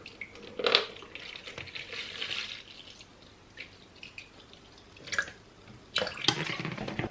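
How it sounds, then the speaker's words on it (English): Vimto is poured into a measuring jug for a slushie machine, a soft liquid trickle and splash with a few light plastic knocks, quiet and close. "we're going to put in 300 ml of this Vimto, and we're going to put in all the way up until it reaches 1500 ml"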